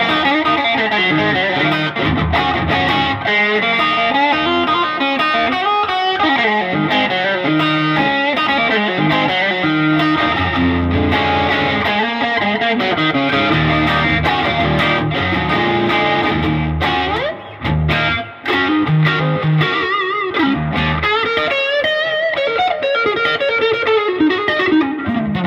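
An electric guitar plays through a distortion effects pedal, with sustained, saturated chords and note runs that ring loud and continuous, pausing only briefly near the end.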